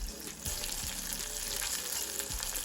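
Tofu pieces deep-fry in oil for vegan karaage, a continuous close bubbling sizzle with a few soft clinks and stirring knocks, moderate in level and heard alone without speech.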